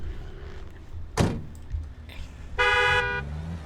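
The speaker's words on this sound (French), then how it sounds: "Mais arrête de me klaxonner, toi." A brief car horn toot in the driving game BeamNG.drive rings out loud and clear, preceded by a dull thunk like a door closing, over a low ambient hum.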